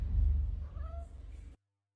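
A cat inside a car gives a short, fairly loud meow over low rumbling background noise, the sound ending abruptly after about a second and a half.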